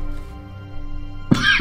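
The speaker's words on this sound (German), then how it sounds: "Und krieg gerade eine Hustenattacke." A person's sudden cough bursts out near and loud after a stretch of quiet hum, one sharp harsh cough followed by a brief rough second one at the end.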